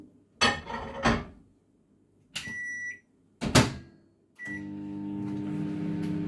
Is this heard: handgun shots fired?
no